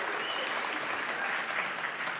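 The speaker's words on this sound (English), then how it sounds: "You can clap." A conference crowd in San Francisco breaks into sustained applause, a dense, even wash of many hands clapping at a fairly loud, steady level from start to finish.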